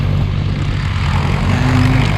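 Vintage Tiger Moth biplane droning past with a steady, loud propeller engine note, a sustained low rumble that rises slightly in pitch toward the end.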